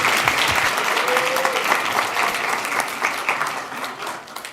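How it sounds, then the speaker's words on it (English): An audience at the official launch of Generation Unlimited South Africa gives a steady round of applause, dense close clapping that tapers slightly toward the end, with faint voices underneath. "can we get another round of applause for them?"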